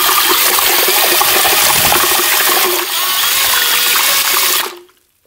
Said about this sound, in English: Easy way, clean up your paint mixer.